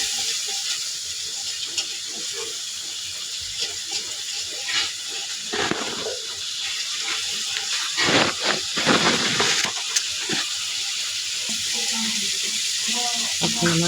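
Ground coriander, cumin and chili powder with green chili are fried in a pan, making a continuous hissing sizzle with stirring scrapes that swell in the middle, while a voice is faintly audible at times.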